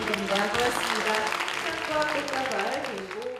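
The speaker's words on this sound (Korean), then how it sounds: "네 여러분 다시 한번 큰 박수 부탁드립니다." Audience applause at a student invention award ceremony, a dense burst of clapping heard alongside music and an announcer's voice, staying steady for a few seconds before easing off.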